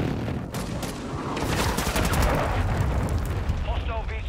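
Cruise missile strike in a Call of Duty match, a rolling roar of explosions and scattered gunfire building into a sustained, dense rumble, with faint voices over it.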